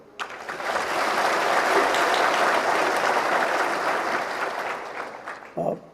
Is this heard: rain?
no